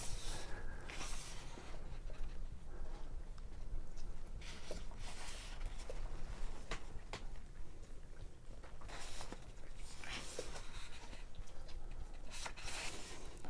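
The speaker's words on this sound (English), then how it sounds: "I'm trying not to be too annoying when I'm turning these pages" Pages of a book turned slowly and carefully, giving soft papery rustles and flicks that recur through a steady low background hum, with no talking.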